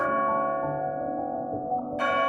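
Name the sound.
church bells ringing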